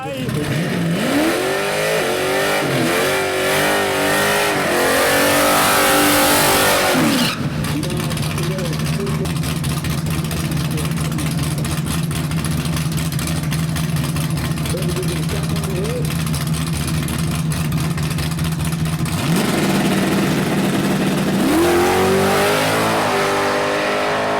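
A Holden Torana radial drag car with an LS engine revs hard in sharp rising bursts, settles into a loud rough idle, then blips the throttle again at a Perth drag event, with voices talking nearby.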